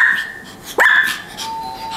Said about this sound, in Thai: ผมจะดูว่ามันเห่าแบบไหนเห่าแบบช็อตหรือว่าเห่าแบบเอาจริง